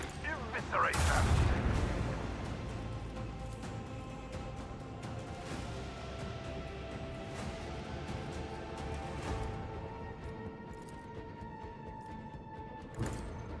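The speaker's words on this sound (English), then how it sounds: "Macro cannons. Annihilate them." Macro cannons on a starship fire in the video game Warhammer 40k: Rogue Trader, a loud booming volley at the start that fades into a rumbling, crackling tail under game music, with a voice speaking over it.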